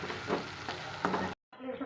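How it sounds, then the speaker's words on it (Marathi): Whole spices such as bay leaf and cardamom roasting in a pan with garlic, coconut and ginger give a steady close sizzle and crackle, with scraping stir strokes, a brief silent gap, then frying resumes. "खडे मसाले सगळे ते पण आपल्याला भाजून घ्यायचं आहे यामध्ये"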